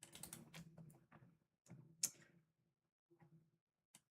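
Someone types on a computer keyboard in quick bursts of clicking keystrokes, with pauses between flurries and a few isolated key taps, close and fairly quiet.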